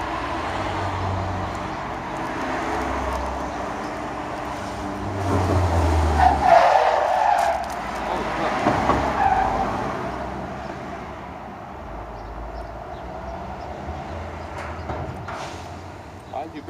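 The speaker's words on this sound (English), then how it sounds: "Why did you brake so hard?" A car braking hard with tires skidding on a road near Sant Julià de Lòria, Andorra, a rising scrape and squeal in the middle, close and loud over steady road rumble, with people talking around it.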